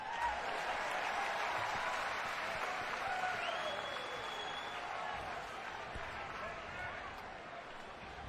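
A baseball stadium crowd at an NCAA tournament game between TCU and Arkansas cheers and applauds in a sustained wash of clapping, with a commentator talking over it.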